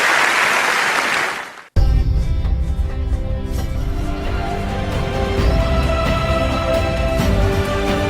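Audience applause breaks out at a ceremony in the Greater Toronto Area as Tata Liliane is called to the stage, a dense, sustained clapping that follows a brief burst of speech.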